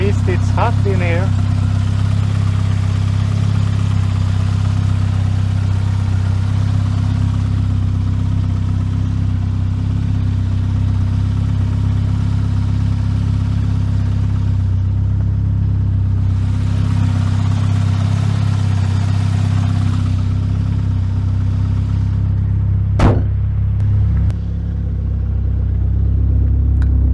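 A SAAB car engine running on base boost holds a steady, loud, low idle close by for a long stretch, with a brief blip near the end before settling back.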